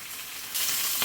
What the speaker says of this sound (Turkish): Isıtmış olduğum tencereme iç yağımı önce ilave ediyorum.